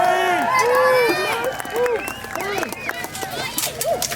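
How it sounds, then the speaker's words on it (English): A crowd cheers and shouts at a Renaissance faire sword-fight show, loud, excited voices rising and falling over a busy babble of onlookers and children. "Give them a good cheer."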